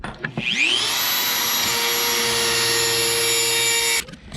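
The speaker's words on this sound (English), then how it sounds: "So use this Dremel, safety first." A Dremel rotary tool trims a stud during an LS engine install on a C5 Z06 Corvette: a close, high-pitched whine spins up quickly, holds steady for about three seconds, then cuts off.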